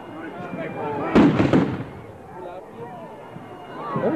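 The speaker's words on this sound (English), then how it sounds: "He sounds like he's shooting a cannon." Loud fireworks burst like cannon shots at a Burning of Kingston celebration, one heavy blast standing out among scattered pops, with crowd voices and talk throughout.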